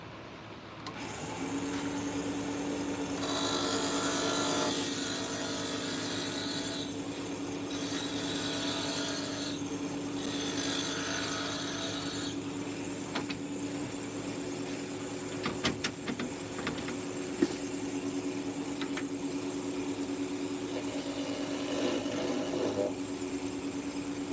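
A wood lathe whirs steadily as a parting tool cuts off the end of the spinning wood, with a scraping, grinding texture that tapers near the end.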